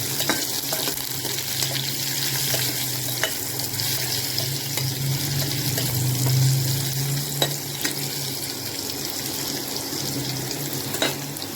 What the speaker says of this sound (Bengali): আলুটা একটু ভাজা হচ্ছে, আমি তার পাশ থেকেই গোটা জিরেটা ফোড়ন দিয়ে দিলাম